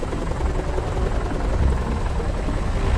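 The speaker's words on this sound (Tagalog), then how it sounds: "Ayan na si helicopter na parang plane." A helicopter in the Godzilla Strike Zone mobile game, a steady, loud rotor and engine drone that runs without a break.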